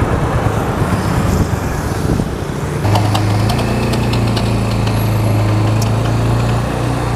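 A BIG ATV 200 Hammer Pro quad bike engine drones steadily while riding at about 35 km/h, a loud continuous hum joined midway by a lower, stronger tone as the motor works harder.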